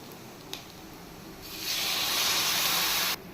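Water poured into a pan of frying potatoes for a yogurt potato curry, a soft tick followed by a loud, steady sizzling hiss that cuts off abruptly after about a second and a half.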